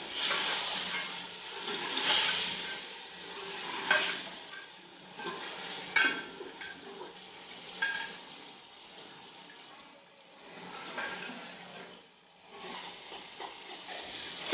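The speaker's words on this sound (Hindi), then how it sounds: "इसमें 1 चम्मच दही और मज़ीद इसको 5 मिनट के लिए हम भून लेंगे" Chicken browning in a pan with a spoonful of yogurt for homemade biryani gives a steady, moderate sizzle and hiss, with occasional sharp clinks from stirring.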